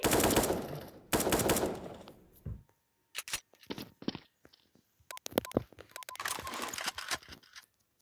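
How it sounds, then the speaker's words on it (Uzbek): Automatic rifle fire from a video game, heard as dense rapid bursts broken by gaps, short single shots and clicky mechanical sounds, fairly close and loud with no talking. "Avtomat o'qishi."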